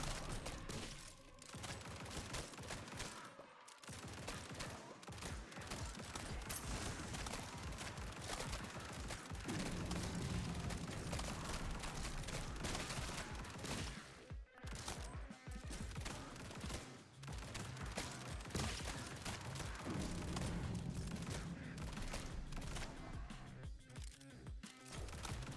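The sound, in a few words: gunfire from shotguns and SMGs in video game Grind Survivors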